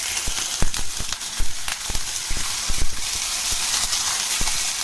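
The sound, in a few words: tomato frying in oil in a pan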